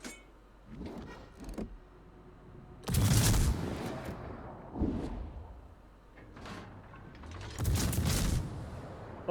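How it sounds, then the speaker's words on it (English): Naval guns fire on a Fuso battleship in World of Warships: three or four heavy booming salvos, spaced a few seconds apart, each followed by a rumbling decay, with no talking over them. "Opening fire on the Fuso."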